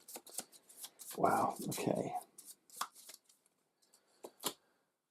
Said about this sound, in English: So they're also just shuffling this into their deck.